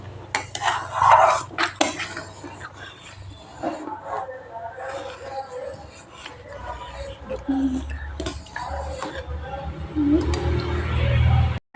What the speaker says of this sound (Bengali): দেখো, আমি অনেকক্ষণ ধরে ভালো করে নেড়ে নিচ্ছি, যাতে চালটা ভালো করে সিদ্ধ হয়ে যায়